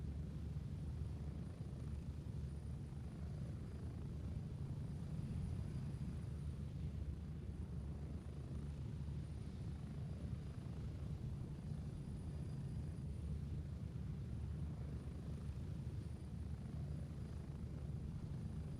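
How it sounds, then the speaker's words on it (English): Steady helicopter rotor and engine rumble from a video game chopper taking off, a continuous low throb at even loudness with no voices. "jump on the chopper, hit L, it'll take right away"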